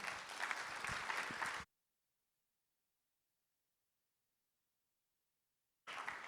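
Audience applause for the speakers at a panel debate, a burst of clapping lasting under two seconds, then silence before a short return of clapping at the end.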